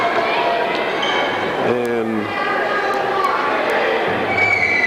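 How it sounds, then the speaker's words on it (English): Steady crowd murmur fills a high school girls' basketball game between Oak Hill and South Webster, a constant indoor din under close commentary, with a brief squeak or whistle-like tone rising partway through. "we got a pretty good crowd here tonight to watch this game"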